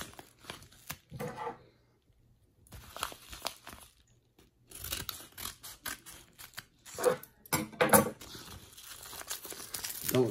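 Scissors snip and cut open a mail package of trading cards, with crinkling packaging and crisp cuts in irregular bursts separated by short quiet gaps, close and fairly faint.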